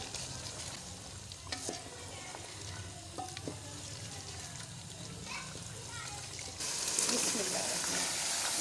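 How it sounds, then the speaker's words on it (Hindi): Oil frying and sizzling in a pan, with stirring sounds, steady and close, getting louder and brighter toward the end; a faint voice is in the background. "ये मैंने तेल डाल दिया। अब मैं इसे 5 मिनट भूनती हूँ।"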